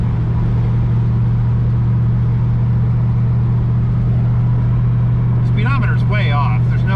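A 1992 Ford Mustang LX 5.0 convertible cruises at moderate speed, its engine droning as a steady low hum with road and wind noise, and a voice speaks briefly near the end.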